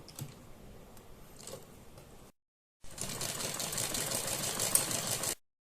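A sewing machine stitches around a garment neckline, a soft run of stitching, a brief pause, then a louder, faster steady whir running for several seconds up close with no talk.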